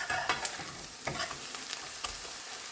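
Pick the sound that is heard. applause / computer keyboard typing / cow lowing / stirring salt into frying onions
stirring salt into frying onions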